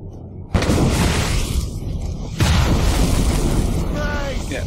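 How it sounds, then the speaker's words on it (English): Mortar explosions in the video game ACR: two heavy booming blasts, the second about two seconds after the first, each followed by a sustained rumble, loud and close over continuous battlefield noise. "Yeah, those mortars."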